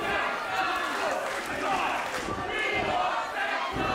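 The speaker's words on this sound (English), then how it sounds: "you can hear the crowd chanting, "We want Senza."" Crowd at an indoor professional wrestling show roars and chants in a steady, rhythmic wash of voices, loud and continuous throughout without clear individual words.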